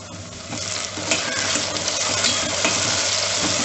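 Tomatoes and onions sautéed in a pan for vegetable pulao, a steady close sizzle of frying with scraping stirs and light clinks of a utensil against the pot running throughout.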